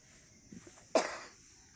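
A single sharp cough bursts out loud and close from an elderly woman, trailing off quickly, after a couple of faint small sounds in a quiet room.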